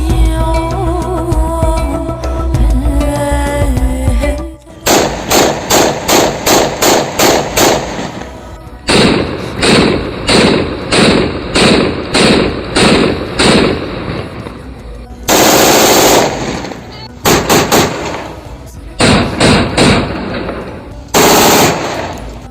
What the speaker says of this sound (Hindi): हमने जितने भी कारतूस फायर किए हैं उनका रिज़ल्ट बेहतरीन रहा है।